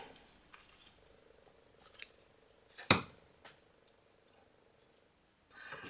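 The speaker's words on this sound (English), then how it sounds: "we can fasten off and cut the yarn" Scissors snip through yarn in a couple of short, crisp cuts amid quiet handling sounds while crocheting, close and clear with no talk.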